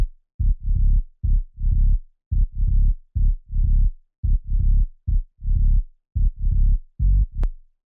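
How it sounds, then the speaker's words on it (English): A simple Serum synth bass built from two saw waves plays short, punchy, low notes in a steady, choppy rhythm with brief gaps between them. It is loud and heard on its own. "The sound is made in Serum. It consists out of two saw waves."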